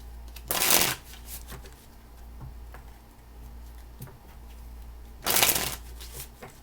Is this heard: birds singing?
no